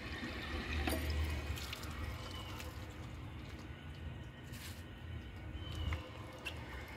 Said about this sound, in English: So let's add some water to the bowl and then try a washcloth.